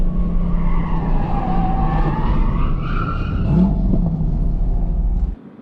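A race car spins out on a track-day circuit, tires skidding and squealing loudly over the continuous engine roar, a sharp screech rising near the middle before the sound cuts off abruptly at the end.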